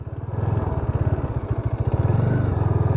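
A Bajaj Dominar 400 motorcycle engine drones steadily nearby with a rhythmic, pulsing low rumble, running alone without voices.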